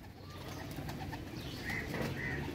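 Pigeons coo softly a few times over a low, steady background rumble.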